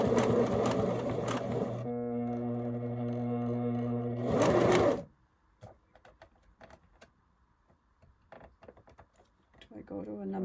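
A Singer sewing machine runs a zigzag stitch in a loud steady whir for about five seconds with a tonal hum in the middle, then stops, leaving faint clicks and handling noise before a brief restart at the end.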